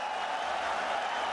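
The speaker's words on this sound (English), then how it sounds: "Babar Azam gets the 50 to a loud cheer of the fans" A cricket crowd cheers Babar Azam reaching his fifty: a broad, steady roar of fans that fills the whole moment without breaks.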